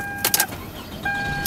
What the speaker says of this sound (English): go ahead and start the vehicle up so you can hear how it starts up the first time with no problems